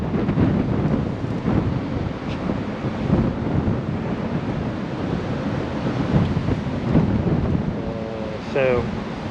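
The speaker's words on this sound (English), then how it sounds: "it's so windy you can barely hold a camera" Heavy wind roars across the microphone at a seaside fort by the bay, continuous and loud with surf beneath and a few faint brief tonal sounds near the end.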